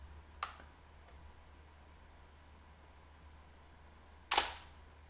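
A Canon F-1 film camera shutter fires at 1/60 second: one faint click early, then a single sharp, loud mechanical snap near the end against a quiet hum.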